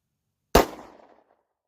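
One sharp shot from a Beretta 92FS 9mm pistol cracks out after a moment of silence, then fades in a short echoing tail.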